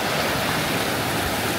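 A waterfall roars up close, a dense, steady rushing wash of falling water that fills the whole short stretch with no pauses and no voices.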